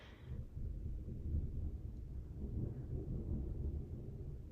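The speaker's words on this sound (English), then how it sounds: "I hate waiting for the thunder" Low, distant thunder rumbling from a storm, heard faintly and continuously as a soft rolling growl with no voices.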